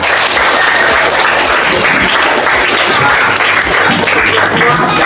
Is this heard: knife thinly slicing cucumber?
no